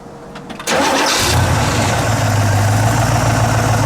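A 1965 Pontiac GTO with a 421 HO V8 cranks briefly, then catches and roars to life, settling into a loud, steady, rumbling idle up close.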